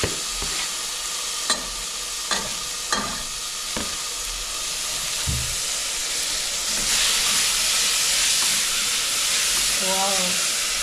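Chopped tomatoes tipped into a pan of cooking onions, first a few clattering spoon knocks over a low sizzle, then a loud hissing surge of steam and frying that swells and holds, with a brief voice near the end.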